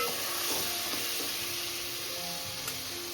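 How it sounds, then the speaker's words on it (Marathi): Onion-tomato puree sizzling steadily in hot oil in a pan, a continuous close frying hiss with faint stirring clinks throughout. "तेल गरम झालं आपण. त्याच्यानंतर कांदा टॅमॅटोची प्युरी बनवलेली अजून ती टाकली"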